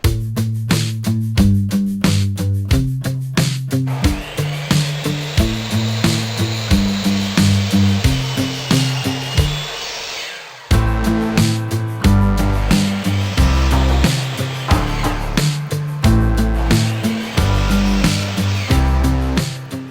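A power saw cuts wooden boards for a window box in a loud, rhythmic series of rasping strokes, with a short pause near the middle before cutting resumes, close and without talk.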